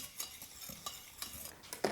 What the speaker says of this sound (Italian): Intanto metto l'amido di riso nello zucchero, lo mescolo